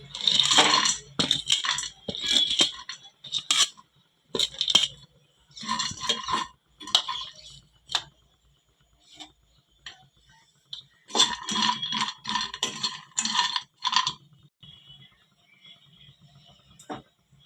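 Almonds poured into a pan for dry roasting, scattered clinks and rattles in short bursts with quiet gaps, close and crisp, no voices.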